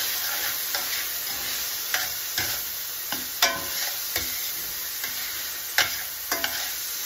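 Sliced peppers and onions sauté in a pan over lowered heat, giving a soft continuous sizzle with a spatula scraping and tapping every second or so, close and unaccompanied by voices.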